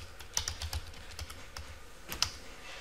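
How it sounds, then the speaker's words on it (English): Close, crisp keystrokes on a computer keyboard while a router banner command is entered, bursts of quick clicks with a couple of sharper key hits and no talking. "now we're going to type unauthorized"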